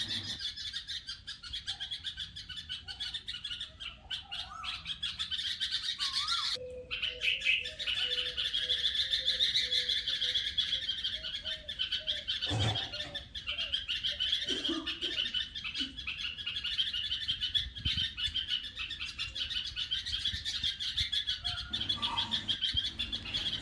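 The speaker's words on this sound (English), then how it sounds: "The bird chirps loudly and sadly." A bird chirps loudly and repeatedly close by, its sharp calls running steadily over a soft outdoor background with no voices.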